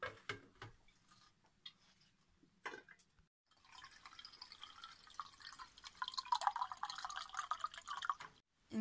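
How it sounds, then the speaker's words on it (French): Water dripping through a Berkey gravity filter into the lower chamber: a few sharp isolated drips early on, then a steadier trickling, splashing patter that builds and stays close and quiet, with no talk. "Et puis goutte à goutte, ça tombe dans la partie inférieure."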